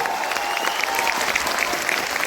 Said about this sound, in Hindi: एक बार जबरदस्त, जोरदार, धमाकेदार एंथुसियास्टिक जबरदस्त ताली होनी चाहिए